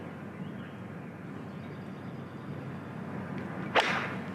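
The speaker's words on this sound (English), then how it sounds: "This is the sound of Rory hitting that shot on the par 5" A golf shot struck with a 7 iron on a par 5: one sharp, brief crack of club on ball near the end, standing out over a steady murmur of crowd ambience.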